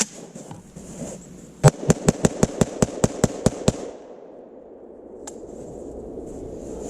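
An AK-47 rifle fires 7.62x39 rounds into firewood outdoors: one loud crack, then a fast string of about nine sharp shots, followed by a single fainter crack after a pause.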